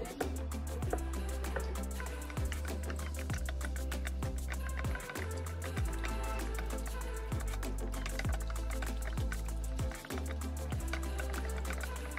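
Warm water poured steadily into a bucket to mix wallpaper paste for a table makeover, a continuous rushing, filling sound under a rhythmic thumping background.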